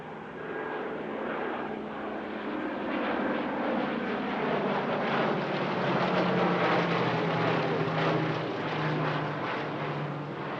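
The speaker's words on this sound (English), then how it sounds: "leaving the Blenheim to fly a solo display for the public" A Bristol Blenheim flies a solo airshow display at Duxford, its piston engines giving a sustained droning roar that swells and shifts in pitch as it passes, moderately distant, with no voices.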